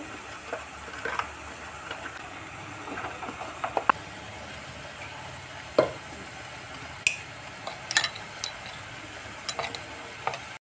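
Ground spices for Kashmiri aloo dum frying in a pan, with a soft continuous sizzle and scattered scrapes and taps of a spoon stirring, quiet and close.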